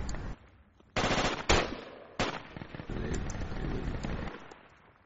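Gunfire in the military shooter game Project Reality, with several sharp, loud bursts and single shots that crack close by, then a rougher stretch of continuous firing before it fades out.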